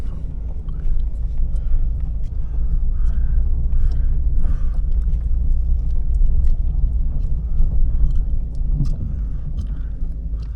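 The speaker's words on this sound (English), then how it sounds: "now it's idled down" A 2004 Lexus LS430 engine idles at a salvage yard, giving a steady, loud low rumble that holds evenly throughout with no revving and no talk.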